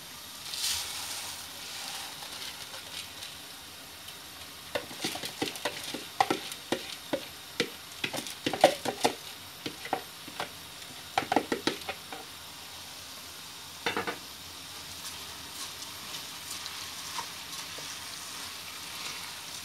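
Washed rice being sautéed in a pot for Uzbek pilaf, with a faint steady sizzle and scattered clinks and scrapes of stirring in the middle, then quieter frying.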